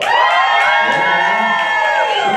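Comedy club audience cheering and whooping loudly, a sustained roar of crowd noise with high shouts and whoops throughout, close and continuous.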